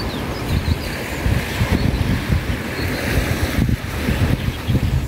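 Seaside surf and gusting wind along a beach, a steady broadband wash with rolling surges of waves and wind buffeting the microphone throughout.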